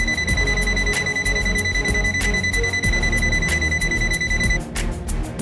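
Rapid repeated electronic beeps from an ANENG AN113B digital multimeter pulse in a steady rhythm over a busy background hum, stopping near the end.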